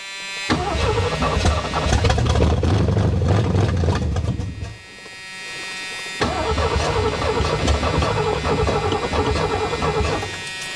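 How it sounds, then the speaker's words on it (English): A 1973 Ford Mustang Mach 1 engine cranks in two long bursts, the starter turning the motor over steadily without catching, loud and close, with a short pause between attempts. "I am going to give it another hit from inside of the car and see if it turns over at the ignition switch here"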